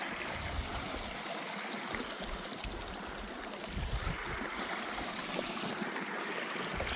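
A mountain stream rushes steadily through forest along a foggy trail near Alanya, its close, continuous broadband flow holding at an even level with no voices.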